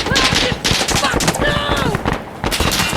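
Rapid bursts of automatic gunfire from the tactical shooter Insurgency: Sandstorm, loud and close, crackling almost continuously across the moment with layered shots and whizzing tones, while a voice shouts over the firefight.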